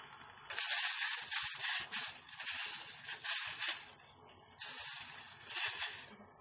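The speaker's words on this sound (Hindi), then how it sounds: "पानी में हमारे उबाल आ गया है और ये पूरी तरह से उबल चुका है" Water comes to a full boil in a pot while tamarind chutney is being made, giving a steady, close, rushing hiss that swells and dips unevenly throughout, with no talking.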